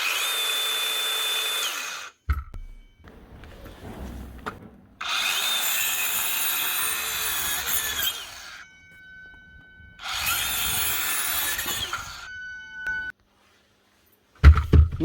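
Dewalt DCS571 18V cordless circular saw, repaired after its blade stopped spinning with the motor, revved in three close bursts of high whining spin that wind down between runs, alone without talk.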